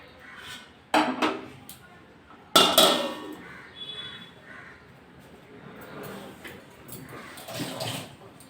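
A metal lid clanks down onto a pan of parshe fish on a gas stove just switched off, two sharp clatters close by, with softer kitchen knocks and a little talk around them.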